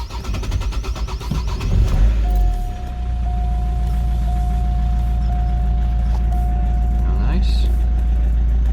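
Vauxhall 1.7 CDTi diesel engine after fuel pressure regulator work: cranking clatter, then the engine catches and settles into a loud steady idle rumble, with a voice speaking near the start.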